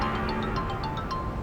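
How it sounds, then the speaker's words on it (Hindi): A phone rings with an incoming call, its electronic ringtone repeating short melodic beeps over a steady background hum. "मैंने फोन नहीं उठाया तो दूसरे नंबर से कर रही है।"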